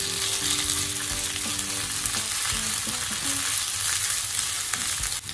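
Ginger, garlic and green chili paste frying in a pan, a steady dense sizzle with faint stirring scrapes throughout, close and continuous.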